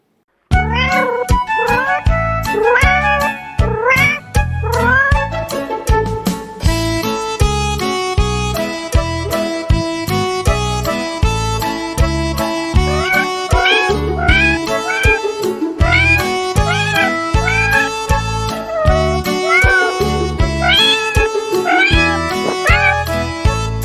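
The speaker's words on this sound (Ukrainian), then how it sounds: "котик до нас прийшов" Repeated meowing calls sound over a bouncy, continuous music track with steady percussion, loud throughout.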